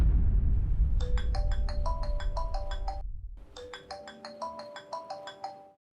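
A phone ringtone plays a bright, repeating electronic chime melody in two bursts separated by a short gap, clear and steady, fading out at the end with no talking over it.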